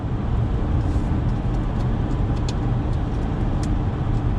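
Inside a 2020 Subaru Legacy XT on the move, a steady broadband rush of wind and road noise fills the cabin, loud and constant with no talking.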